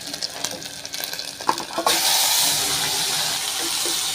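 Washed mutton drops into a hot pan of sautéed masala with a stir and a splash, and a loud, steady sizzle then fills the rest of the clip.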